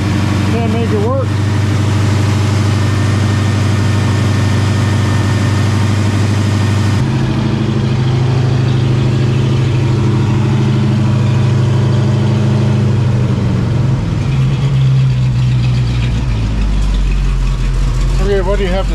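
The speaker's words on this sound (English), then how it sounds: "It'll idle on its own now at 500. That's 500 RPM." A freshly rebuilt AMC Hornet engine idling on its own at about 500 RPM during break-in, a loud, close, steady low rumble that shifts slightly in tone midway, with voices over it.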